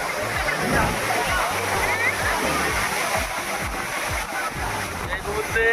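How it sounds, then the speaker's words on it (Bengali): Kempty Falls waterfall in Mussoorie, Uttarakhand, roars as a steady, loud broadband rush of falling water close by, with muffled voices faintly underneath. "এই মুহূর্তে আমি দাঁড়িয়ে আছি কেএমটি ফলসের সামনে"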